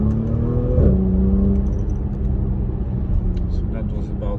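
An Audi S5 3.0 TFSI V6 with a cylinder-disabling misfire fault revs up to about 5,000 RPM from inside the car, rising in pitch near the start and then settling into a steady droning hum.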